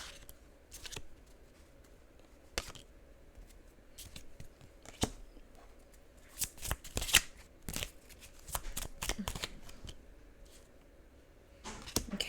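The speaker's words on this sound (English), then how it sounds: "I'm gonna shuffle these." Tarot cards shuffled by hand at close range: a series of quick, crisp riffling and slapping bursts, scattered irregularly and growing busier toward the middle, over a quiet room.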